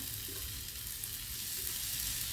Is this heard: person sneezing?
no